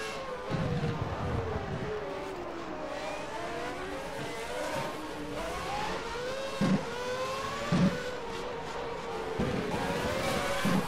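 A Lamborghini-powered Minardi Formula One car from the 1992 season in the racing sim rFactor 2 screams at high revs, pitch rising through gears with brief shift dips, a continuous engine note with no talking.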